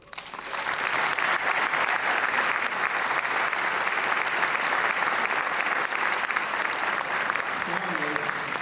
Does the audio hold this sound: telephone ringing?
no